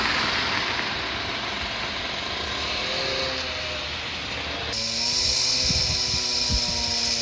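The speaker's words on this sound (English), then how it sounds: "Cutting into the side so they can get to it easier. With that Milwaukee industrial chainsaw. Works good on concrete." A Milwaukee industrial chainsaw cutting into the concrete wall of a school being demolished, a loud, continuous high-pitched machine whine and grinding that shifts pitch midway, with low rumbling knocks beneath.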